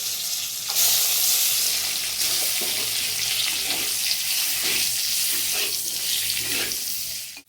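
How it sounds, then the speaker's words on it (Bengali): Duck eggs fry in hot oil seasoned with turmeric, salt and Kashmiri chilli, producing a loud, steady, close sizzle that continues unbroken throughout with no voices. "এই ডিমগুলো আমি সুন্দরভাবে ভেজে নিলাম এভাবে।"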